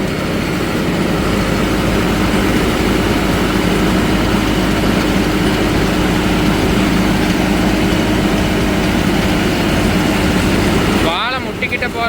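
A Deutz-Fahr Agrolux 80 CRDI tractor engine roars continuously and loudly, close by, driving a banana mulcher through its PTO, with a dense mechanical rumble that cuts off near the end.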